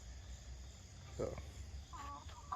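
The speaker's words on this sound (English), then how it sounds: "I think all the chickens are back down here" Backyard chickens cluck and make soft calls in the early morning, a few brief, fairly faint vocalizations over low outdoor background noise.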